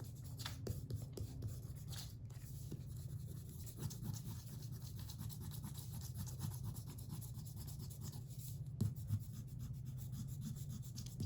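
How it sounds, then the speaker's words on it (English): An eraser scrubs pencil lines off drawing paper, a faint, close, steady rubbing with quick back-and-forth strokes and a couple of brief louder scuffs, heard on its own. "we're gonna go ahead and erase our pencil lines before we color"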